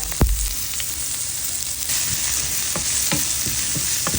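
Onions and ginger sizzle in a hot pan, a dense continuous frying hiss up close, with a sharp clatter early on and a few light scrapes of stirring.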